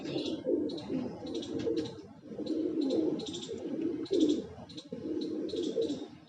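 Fancy pigeons coo continuously and close by, with layered rolling calls overlapping and repeating without pause.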